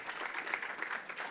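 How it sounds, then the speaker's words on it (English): A Sunday-morning workshop audience claps steadily, a fairly quiet, even patter of many hands with no voices over it. "Let's hear a round of applause for you."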